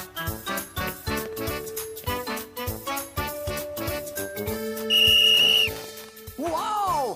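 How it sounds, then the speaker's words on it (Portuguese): An orange toy whistle in a cartoon shrills a steady high tone over bright, bouncy music, with a short rising-and-falling whistle flourish near the end. "É o meu apito laranja!"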